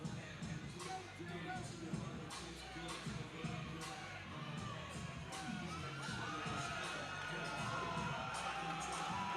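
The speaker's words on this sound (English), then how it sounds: "The crowd definitely backing Ontario Gladney here." A crowd at an SFC 37 MMA fight cheers and shouts continuously, a loud, sustained roar of voices with whoops filling the arena under commentary.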